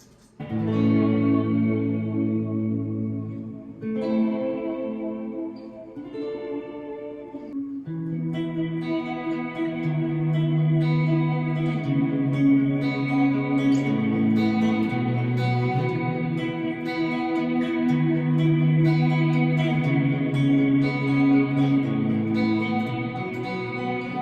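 Electric guitar played through a Walrus Audio Slö reverb pedal, with a J Rocket Audio Designs The Dude distortion and overdrive pedal in the chain, sends out sustained, washy chords and swelling notes with long, lush reverb tails. It plays steadily and loud, with no talk.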